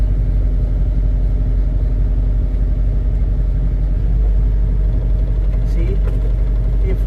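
A CAT 317 D2 wheeled excavator's diesel engine runs with a misfire, producing a continuous, close, heavy low rumble with an uneven throb that holds steady throughout.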